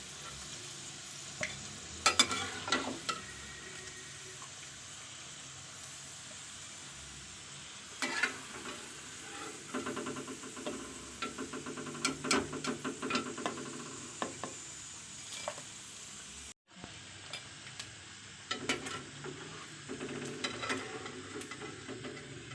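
Khichdi pakoras frying in hot oil give a steady close sizzle and bubble, broken by brief clattering bursts as they are stirred and turned, with no talk.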